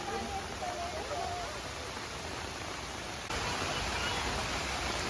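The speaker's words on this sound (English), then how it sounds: "It's pouring down now" Heavy rain pours at the Kanheri Caves in a steady, even hiss that fills the background. It is fairly soft overall and swells noticeably louder partway through.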